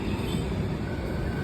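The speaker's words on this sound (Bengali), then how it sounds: "ট্রেনটা কিন্তু প্ল্যাটফর্মে ঢুকে যাচ্ছে।" An AC local train rolling into a station platform at Chandpara, a dense rumbling roar of wheels and carriages that stays steady and close for the whole moment, with no talk.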